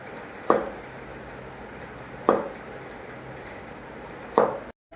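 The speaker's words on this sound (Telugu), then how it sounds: "ఆల్రెడీ మేము క్యారెట్ని ఇట్లనే కట్ చేస్తున్నాను." A knife chopping carrot on a cutting board: three crisp, close knocks spaced about two seconds apart over a quiet kitchen background.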